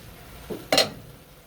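Sardines, vegetables and bihon noodles being stirred together in a pan, a couple of short scraping and clinking utensil strokes against the metal, the second louder and brighter, with no talking.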